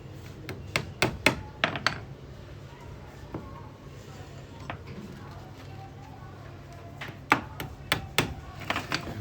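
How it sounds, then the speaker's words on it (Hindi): A hammer drives nails into a wooden frame while cloth is stretched for a homemade canvas, sharp wooden knocks in quick bursts with short pauses between, close and loud over a steady low room hum. "जब आपके कील वगैरह लग जाएगी इसके बाद हैमर और कील का काम ख़त्म हो जाएगा"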